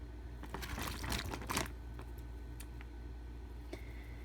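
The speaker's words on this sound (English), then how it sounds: "We then add a 15-ounce can of Italian-style petite diced tomatoes that have basil, garlic, and oregano in them." A 15-ounce can of Italian-style petite diced tomatoes with basil, garlic and oregano is poured into a 2-gallon plastic bag, giving a short wet, splattering rush followed by faint handling noises.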